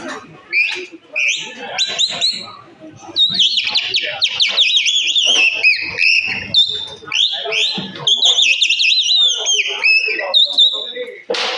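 A man whistles an imitation of a chaffinch, delivering loud, close, rapid chirps and trilled phrases in quick bursts, with short breathy pauses between the runs.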